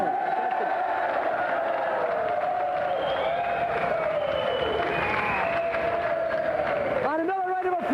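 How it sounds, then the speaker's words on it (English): Studio audience applause on the Gamesmaster television game show, a steady wash of clapping and cheering that runs loud throughout under a voice, then cuts off near the end. "And another round of applause for Pat and Emily Cash."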